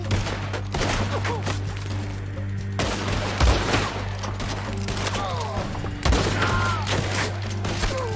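Dense gunfire in the video game Red Dead Redemption 2 comes as repeated sharp shots and rapid volleys over a steady background drone, with a few heavier thuds. It stays loud and continuous throughout.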